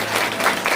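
A church congregation at an Easter service claps together, a loud, dense burst of many hands clapping continuously and close by.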